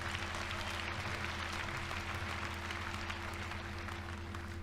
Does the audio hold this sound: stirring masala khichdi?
no